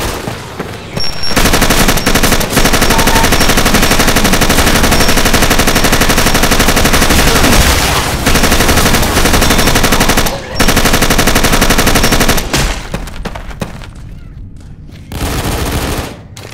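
Sustained automatic machine gun fire in the zombie shooter Left 4 Dead 2 on the Dead Vacation map, loud and dense for about ten seconds with brief pauses, then tapering into scattered bursts.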